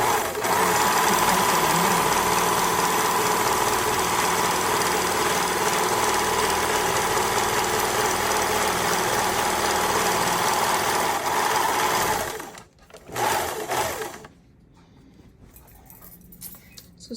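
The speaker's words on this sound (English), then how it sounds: "since my serger only does 3 threads, I also sew it." A three-thread serger stitches through fabric with a fast, steady mechanical whir that runs continuously for about twelve seconds, then stops abruptly, leaving a few short bursts and quiet handling.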